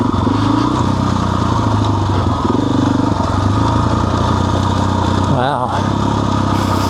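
A motorcycle engine runs at low revs on a steep high-country track, a close, uneven chugging that stutters and wavers, with a voice talking over it.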